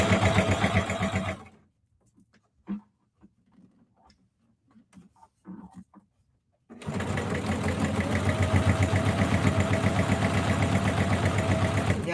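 A sewing machine fitted with an 80/12 needle stitches a denim tote bag, running in two loud, steady bursts at the start and end with a quiet pause of small handling clicks between.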